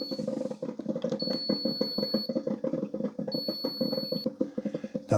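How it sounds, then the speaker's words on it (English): Two long, high electronic beeps from a Mr. Coffee 12-cup programmable coffee maker signaling brewing is done sound a second apart, clear and steady, over a constant low rumbling hum. "so it does beep at you when it's done."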